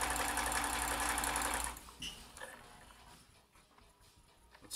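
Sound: vintage Janome Combi DX 502 sewing machine sewing

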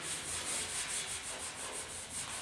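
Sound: grinding repaired steel on 1972 Ford truck box

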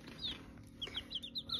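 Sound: chicks clucking while given water

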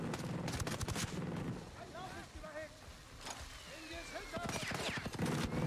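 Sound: gunfire from enemy shooting at player, video game Ghost Recon Breakpoint

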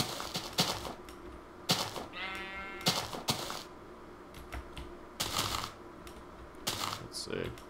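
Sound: sheep bleating in a video game

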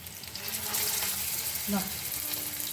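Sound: taro kebabs frying in mustard oil

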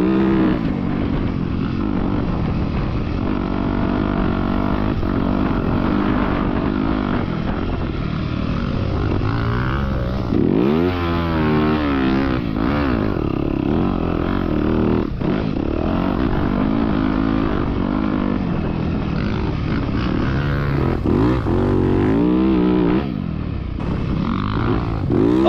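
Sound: motorcycle engine running with throaty bottom end

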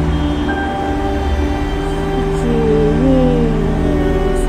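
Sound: train at a station platform

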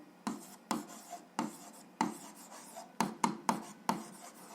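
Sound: pen writing on paper during algebra exercise

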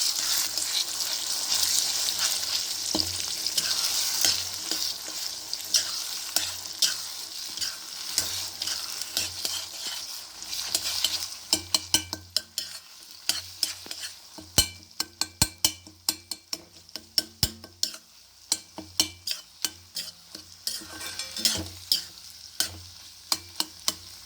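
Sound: eggs frying and being stirred in a pan for egg curry

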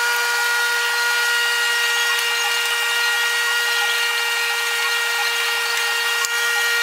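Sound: power tool cutting a truck's factory bumper

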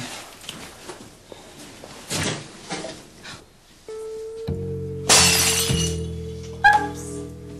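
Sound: glass shattering

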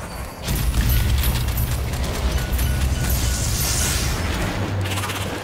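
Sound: grenade explosion in Strange Brigade video game

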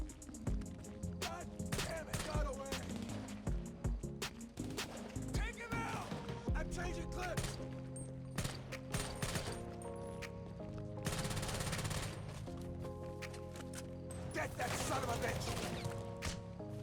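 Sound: gunfire in the video game GTA Online

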